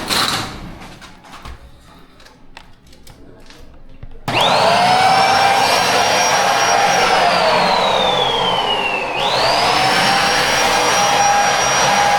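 A vacuum cleaner switches on abruptly after light clattering, then roars loudly and steadily with a high whine that dips and rises in pitch.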